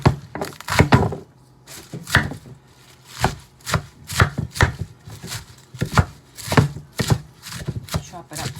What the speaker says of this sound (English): Have some organic romaine lettuce that I'm just going to chop up.